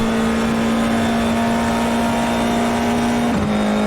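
A Formula 4 iR-04 race car engine in the iRacing game at Long Beach holds a loud, steady high-revving drone, then dips briefly near the end as if shifting gear.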